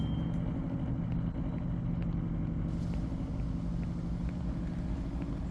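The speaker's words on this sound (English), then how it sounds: "That was our first stop for an excessively loud engine" A deep, steady car engine in Police Simulator rumbles at idle close by, excessively loud and continuous without letup.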